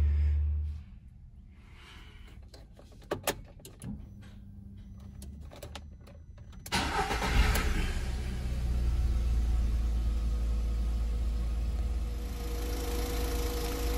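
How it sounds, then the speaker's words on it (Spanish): A VW Saveiro Robust pickup engine idles after an oil and filter change, a steady low rumble that grows louder and fuller partway through, with a few sharp clicks early on and no talking. "dejamos unos 5 minutos prendido el motor"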